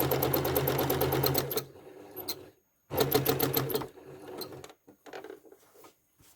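A sewing machine stitching serpentine quilting lines runs in two loud, steady bursts of rapid needle clatter, separated by pauses filled with quieter handling and shuffling of fabric.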